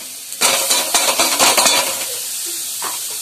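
Boiled, mashed figs go into a frying spice mix with potato, bringing a sudden burst of hissing sizzle and scraping stirs against the pan that quickly settles to a softer fry, close and without talk.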